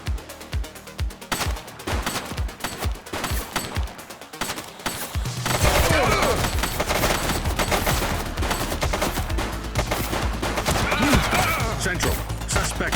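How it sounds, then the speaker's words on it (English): Rapid gunfire in a police shootout, with many sharp shots in quick bursts that build into dense, loud, continuous firing and chaotic noise through the second half. "She's shooting!"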